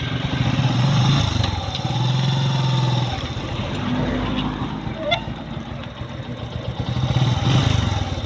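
A motorcycle engine runs nearby with a steady rumbling drone that swells and dips in revs, with some clatter and faint background voices.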